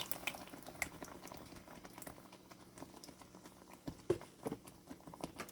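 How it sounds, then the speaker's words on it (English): Broth for turkey gravy hisses and bubbles in a hot pan, a quiet, close crackling simmer with scattered pops and sizzles and no talking. "I'm going to put the rest of my broth in here"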